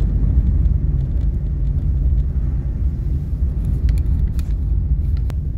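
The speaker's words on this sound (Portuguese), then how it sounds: "Vou acelerar um pouco, senão fico muito tempo parado." Car engine rumbling steadily on an empty, rainy night street in Porto Alegre, a dense continuous low drone with road noise, close and loud throughout.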